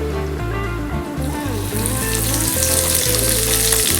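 Hot oil sizzles loudly and continuously in a pan over a high flame, a dense close frying hiss with slight bubbling variation throughout and no speech.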